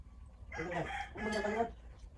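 A single rooster crows nearby, a two-part call standing clear over quiet background.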